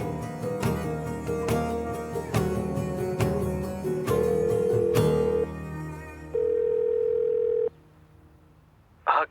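A phone call on speakerphone sounds steady electronic dialing and ringing tones, long held beeps loud and close, over a busy musical background that drops away before a final short tone.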